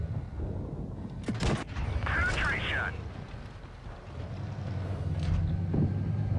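Tank cannon shots in a World of Tanks-style game replay featuring a T20, heard as a couple of sharp booming blasts over a steady rumbling engine and wind bed, with a voice talking throughout.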